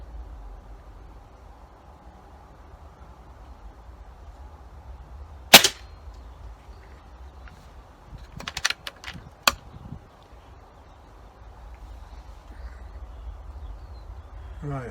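Air rifle firing pellets at a target outdoors: one sharp crack, then a short cluster of clicks and a second sharp shot. Both stand out against quiet background hiss.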